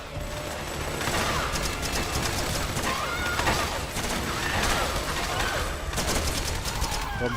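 Rapid bursts of gunfire in the video game Metal Gear Solid 4 crackle almost without a break, layered with mechanical clatter and scattered impacts in a dense, busy mix.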